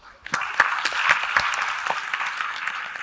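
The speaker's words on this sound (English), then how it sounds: "Please give him a big round of applause" Applause from an audience at a panel event on the future of work, with a burst of clapping that starts after a brief pause, builds into a steady dense patter, and continues evenly to the end.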